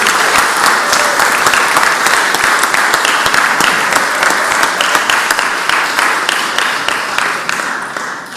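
Sustained applause fills the Mississippi Senate chamber during a floor session, dense clapping from many hands holding steady for about eight seconds before easing slightly at the end.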